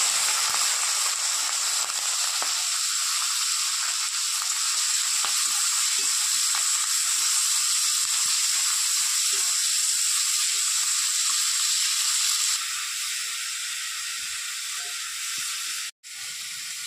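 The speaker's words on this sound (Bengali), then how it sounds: "এবার মাছগুলো আমি প্রথমে ভেজে নেব" Prawns rubbed with salt and turmeric, shallow-fried briefly in hot oil, giving a long even hiss and crackle that eases slightly near the end, no speech.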